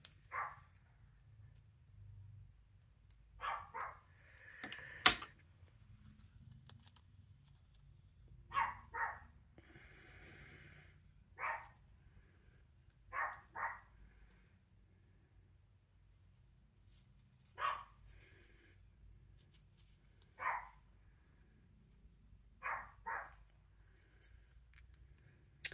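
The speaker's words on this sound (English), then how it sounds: "I don't know why she's barking, folks." A dog barks in short, sharp pairs and singles spread out over a quiet room during a craft session, roughly a dozen barks, somewhat distant and faint, with occasional small handling noises between them.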